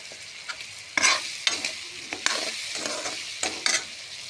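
Green chillies frying and being stirred in a pan for a vegetarian ash gourd and lentil fritter curry, with a light sizzle under repeated brisk scraping strokes of a spatula, close and with no talking.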